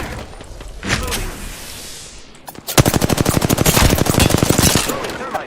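Rapid automatic gunfire from the Apex Legends video game crackles in loud, dense bursts during a firefight, after a quieter stretch with a few scattered shots.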